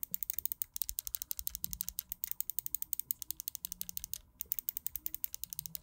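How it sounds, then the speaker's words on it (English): Fast, steady rapid-fire clicking from the side buttons of a Glorious Model O gaming mouse, dozens of crisp close clicks with only a couple of brief gaps, heard alone. "Let me do a sound test of the side buttons"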